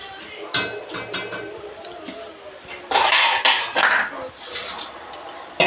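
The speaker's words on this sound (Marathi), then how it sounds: "मी गॅस बंद करते आणि यावर झाकण ठेवते" A metal lid is set down on a pot of gulab jamun sugar syrup with a few sharp clanks and clinks of pans and utensils, close and fairly loud, with someone talking in between.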